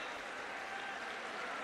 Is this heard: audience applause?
yes